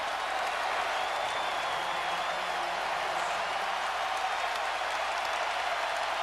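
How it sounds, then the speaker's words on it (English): Crowd noise in a basketball arena during a 2004 playoff game between the Nuggets and Timberwolves, a steady, broad roar of cheering and clapping that holds at an even, loud level with no break. "And now the crowd coming to life."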